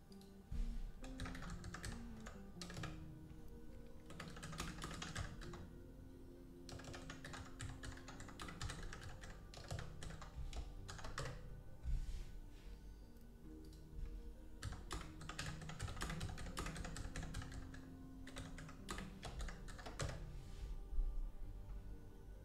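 Quick clattering keystrokes on a computer keyboard while someone types in a game chat, coming in uneven bursts and pauses, close and fairly quiet over a low background hum.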